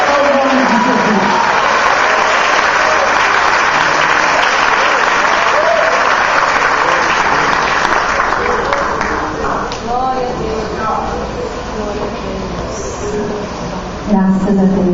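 A church congregation claps hands together in a loud, dense burst of applause that thins out partway through, with voices rising over it and a brief swell again at the end.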